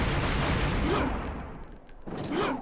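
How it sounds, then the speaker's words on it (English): Dante's pistols fire in Devil May Cry 2 as two dense bursts of rapid shots, loud and close, separated by a short lull. "I no longer have to aim to shoot with the pistols."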